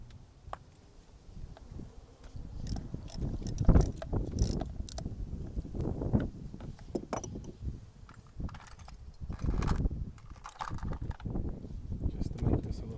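A 10mm socket on a ratchet loosens a battery bolt on a 2018 Honda Goldwing during a lithium battery install, with quiet irregular clicking and metallic rattles, close and faint, amid handling noise.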